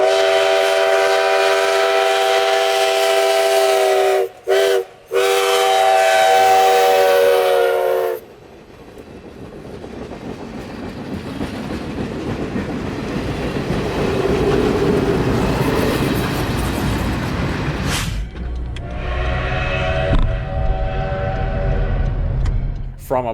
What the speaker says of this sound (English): 148's whistle echoes through the town, sounding almost identical to the Polar Express